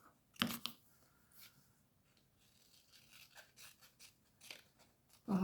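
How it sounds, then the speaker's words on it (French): Scissors cut roughly through paper for a Halloween witch-themed craft, giving a few faint, quiet snips and crisp rustles spread unevenly over a few seconds. "Pareil, je découpe grosso modo."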